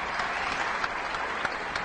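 A studio audience on a televised couples' quiz game show bursts into applause: dense, steady clapping from many hands, fairly loud and continuous for about two seconds.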